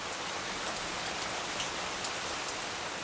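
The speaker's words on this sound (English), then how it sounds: "I'll share quiet, eerie stories while the rain falls outside your window." Steady rain falling outside a window, an even dense patter of drops on surfaces that holds at a constant soft level throughout, with no voices.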